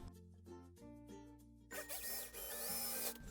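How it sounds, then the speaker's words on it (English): A power drill bores a hole into a wooden cupboard, its whine rising loud and rough partway through and running steadily to the end after a quieter stretch of humming and tonal background. "I drilled a hole into the cupboard."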